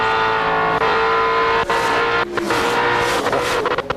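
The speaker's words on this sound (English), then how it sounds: "Let's listen to the throttle as he goes down into 1. He'll get off the gas, let it float." NASCAR race car engine roaring loudly and steadily, then shifting tone as the driver lifts off the throttle going into turn one at the 2004 Pop Secret 500, with brief dips and crackles near the end.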